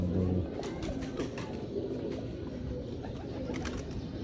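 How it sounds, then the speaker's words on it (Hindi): Breeder pigeons coo in a loft, soft repeated low cooing under a steady dense background hum of birds and room noise throughout. "ये नेक्स्ट बर्ड ये हमारी ना 333 ब्रीड है जी।"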